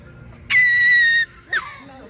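A person screams as on the Seven Dwarfs ride, a loud, high sustained shriek lasting under a second, followed by a shorter rising squeal, close and alone.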